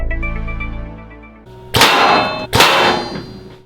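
A 125-grain double-bevel broadhead arrow from a crossbow strikes a steel plate twice, each hit a loud, sharp metallic clang with a ringing tail, following a fading resonant tone.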